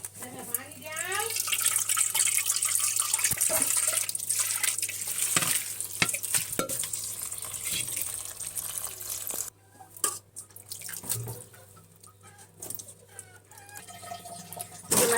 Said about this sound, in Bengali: এখন আমি ধুয়ে নিব। পেঁয়াজের পাতাগুলো ধুয়ে নিব।